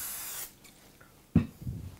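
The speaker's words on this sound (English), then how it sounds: "first thing you're gonna do is either butter, grease, oil, or spray your pan" Cooking spray hissing briefly onto a baking pan, a short sharp spritz at the start, then a couple of soft clunks of the can or pan.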